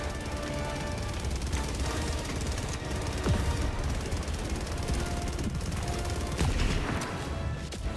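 Turret gunfire in the video game Helldivers 2, a dense, continuous barrage of rapid shots that holds steadily loud for the whole stretch, with heavier bursts mixed into the clatter.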